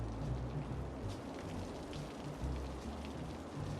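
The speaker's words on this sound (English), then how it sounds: "so I'm not really sure why it's raining." Steady rain from the weather effect in the city-building game Cities: Skylines, a continuous dense hiss with low rumbling undertones, fairly loud and even throughout with no talking.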